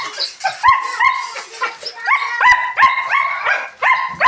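A dog barks in short yips and whimpers repeatedly, close and fairly loud, in a broken, insistent rhythm.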